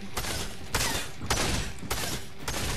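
Bursts of gunfire from a Fortnite match crack out in four or five loud volleys spaced roughly half a second apart, with a steady mechanical rattle underneath.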